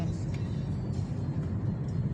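Road traffic with cars driving near a CAVITEX toll plaza, a continuous low rumble of engines and tyres at moderate level, steady throughout with no clear talk.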